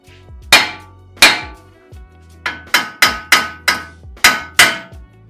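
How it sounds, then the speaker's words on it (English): A hammer strikes the steering knuckle of a 2016 Jeep JK about ten times. The loud metallic whacks are sharp, ringing and close, spaced irregularly with one softer tap among them, and no talk. "whack the knuckle pretty solid with a hammer"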